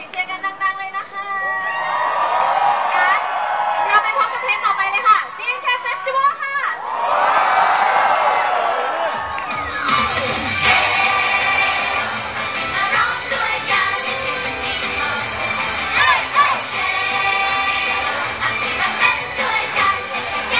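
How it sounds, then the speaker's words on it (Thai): A concert crowd at a BNK48 show cheers and shrieks loudly, high excited voices swelling in bursts before a dense wall of cheering and music takes over for the rest. "มาส่งเสียงเชียร์กันดังๆเลยนะคะ"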